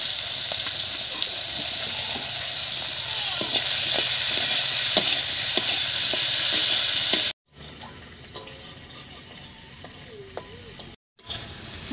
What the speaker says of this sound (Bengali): মাছের সঙ্গে পেঁয়াজটা ভাজা হয়ে লাল লাল হয়ে গেছে